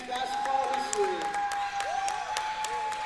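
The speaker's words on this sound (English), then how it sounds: "The crowd's going wild." Basketball crowd at a high school game cheering and applauding after a record-setting three-point basket, a steady wash of claps and shouts with a sustained whistle-like tone running through it.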